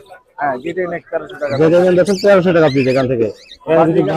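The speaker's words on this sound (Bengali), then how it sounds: "অনেক সুন্দর সুন্দর পাখি আছে কাকার কাছে এবং পাখিগুলো দেখেন" A dense chorus of caged birds at the Mirpur 13 bird market, loud and close with continuous chirps, squawks and cooing pigeons layered over one another, with a voice talking through it.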